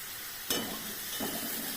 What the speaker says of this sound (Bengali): এটা ভাজা হোক